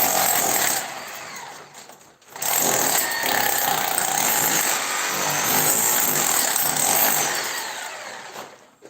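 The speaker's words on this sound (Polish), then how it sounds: "żeby starą fugę usunąć, trzeba niestety młotem udarowym ją pocisnąć" A hammer drill chisels old mortar out of brick joints in two bursts: a short blast, a brief pause, then a long loud rattling run close up, with no speech.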